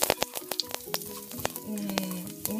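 Garlic browns in a very hot pan, crackling and sizzling close up with sharp pops and spatters over a short, busy burst.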